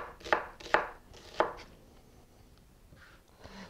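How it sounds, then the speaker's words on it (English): A knife chops onion finely on a board: three sharp, close chops in quick succession, then quieter faint cuts trailing off. "Cut the onion finely."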